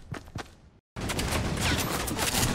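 Turret gunfire in Fortnite: a couple of quick sharp shots, a brief silence, then a dense, loud, continuous stream of rapid automatic fire rattling on without pause.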